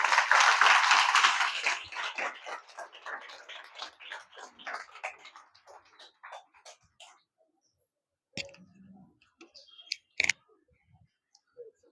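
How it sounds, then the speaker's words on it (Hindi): A church congregation claps to welcome the preacher, starting as loud dense applause, then thinning into scattered claps that die away, followed by a few isolated knocks and small sounds in near silence. "हम ताली बजाकर उनका स्वागत करें"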